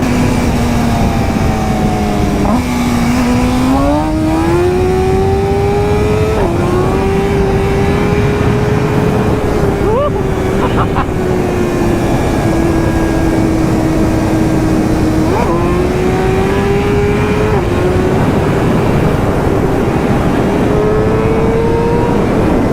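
A latest-generation BMW S1000RR sportbike accelerating hard at speed, its loud, high engine whine climbing through the gears with brief dips at each shift, heavy wind rush all around and no talking.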